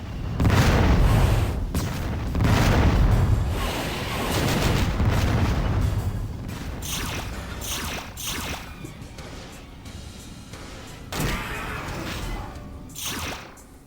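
Weapon fire in the video game Descent Vertigo, a shotgun-like pellet weapon similar to the Helix cannon, heard as repeated loud booming blasts with whooshing tails across a busy game soundscape.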